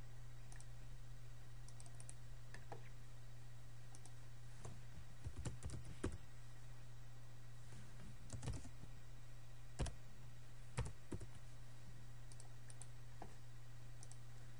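Keys on a computer keyboard are tapped in scattered clusters of soft clicks over a steady low electrical hum, quiet and close, during CAD dimension work.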